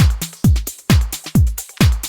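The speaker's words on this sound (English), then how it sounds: "I want to start off with the drums of the track" Deep house drum loop in an old-school minimal style: a booming kick lands about every half second, with snappy percussion and short hats filling the gaps between hits, steady and loud with no voices.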